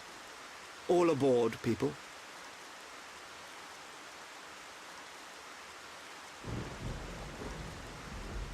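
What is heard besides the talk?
rain and thunder in Xenoblade Chronicles video game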